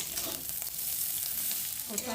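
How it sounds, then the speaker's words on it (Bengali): Chowmein noodles and potatoes fry together in a pan with a steady close sizzle and a couple of light stirring scrapes. "দিয়ে চাউমিনটাকে আলুর সাথে ভালো করে একটু ভাজা করে নেবো"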